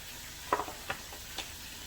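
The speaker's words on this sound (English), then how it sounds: "So because we're frying and, you know, deep frying it" Quiet sizzling of oysters deep frying in hot oil, with a few soft crackles and pops spaced across the clip.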